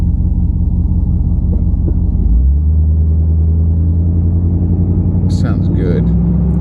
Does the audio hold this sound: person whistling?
no